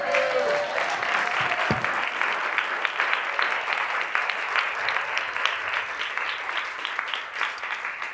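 Audience applause at a swing dance event honoring Lindy Hop legends Norma, Jean, and Sugar: steady, dense clapping from a large crowd that holds through the whole stretch, with a brief voice or tone near the start.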